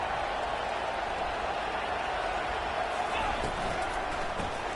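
A football stadium crowd at a Mississippi State Bulldogs game roars steadily in a dense, sustained wash of noise during a red zone defensive stand, with a commentator talking over it.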